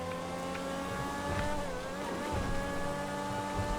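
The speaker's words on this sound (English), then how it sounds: "If you bought a Formula One race car, you'd expect it to sound like one." A Grotti X80 Proto supercar in GTA howls at sustained high revs with a smooth, tonal whine that shifts slightly in pitch, loud and continuous with no talk.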